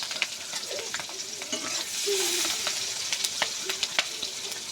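Whole garlic cloves sizzle steadily in hot oil for a village-style dried fish curry with taro stolons, with scattered crackles and spatters and occasional stirring, close and moderately loud, with no voices.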